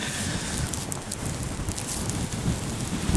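Strong wind buffets an exposed limestone hillside near Castleton, gusting loudly against the microphone in continuous rough rushes.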